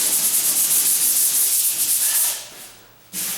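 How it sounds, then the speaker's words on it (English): Close, light sanding rubs back and forth in quick strokes over a light scratch on a door panel being prepared for paint, then briefly eases off before resuming. "if you don't lightly sand those, when you get done painting, you're going to see it"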